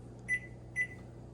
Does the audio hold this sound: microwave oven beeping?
yes